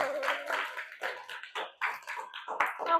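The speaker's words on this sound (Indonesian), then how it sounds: "Ya, tepuk tangan." Students in a classroom guidance session clap their hands in short, uneven bursts, a close, crisp run of claps that stops and starts several times.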